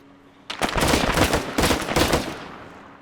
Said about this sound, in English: I have a feeling that was my guys that were shooting pretty close to me